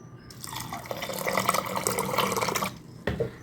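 Water pours steadily into a bowl for a couple of seconds, splashing close by, then stops, followed by a brief clink.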